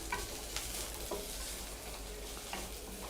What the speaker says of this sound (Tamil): வெங்காயத்தை வந்து நல்லா வதக்கிக்கோங்க.